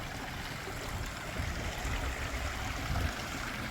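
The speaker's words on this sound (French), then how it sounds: "on voit une autre fontaine encore" Water runs steadily in a stone fountain, a continuous close trickle and splash at moderate level with no voices over it.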